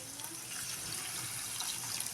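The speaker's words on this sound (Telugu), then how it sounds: "వాటర్ వేసుకుంటున్నాం మేమైతే" Water poured into cooking ridge gourd dal gives a steady, soft gushing rush, fairly quiet and close, with a voice faintly present.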